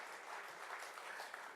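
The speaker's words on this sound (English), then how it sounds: "Big round of applause for Ayukawa-san." Brief, faint applause from an audience at a company silver jubilee celebration, a soft even patter of clapping lasting under two seconds.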